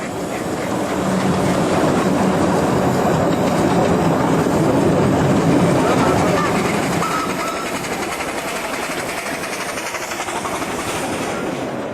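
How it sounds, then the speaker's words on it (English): A narrow gauge railway train rumbles along steadily with a continuous rolling clatter of wheels on track, loud and close throughout. "We'll join the train at Riverside station for the journey south."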